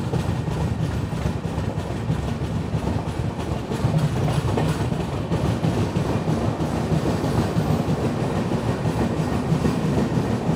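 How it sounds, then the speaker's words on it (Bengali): Bengaluru SF Express train rolling into Mecheda station, a steady loud rumble of wheels and carriages with faint rhythmic clatter, continuous and close throughout. "আমাদের ট্রেন এই মুহূর্তে প্রবেশ করছে"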